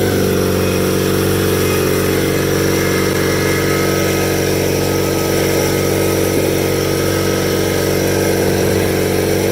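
Cub Cadet 982 garden tractor with power steering driving along a driveway: its engine drones steadily and loudly throughout, a constant close mechanical hum with a rich harmonic buzz and no speech.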